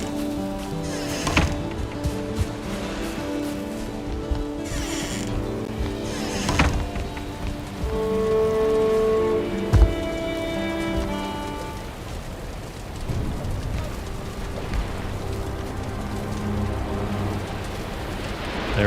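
Rainfall in the video game Valheim, a soft continuous patter running beneath in-game music and occasional sharp clunks and impacts, with sustained tones layered over it.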